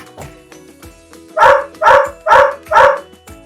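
Four squeaky, high-pitched barks from a Fisher-Price smart toy dog in a quick steady rhythm, close and fairly loud, after a few soft clicks.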